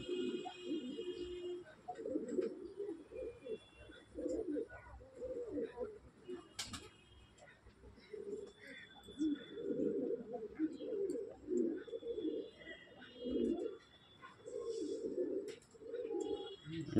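Pigeons in a home loft, including Lakka birds, coo close by in soft, rhythmic, repeated phrases with short gaps, while a person talks over them.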